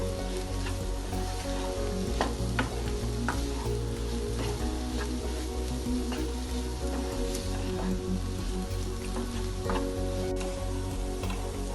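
Ivy gourd fry with coconut powder being stirred in a pan, a steady dense sizzle with scattered clicks and scrapes of the spoon running the whole time, close and even, no talking.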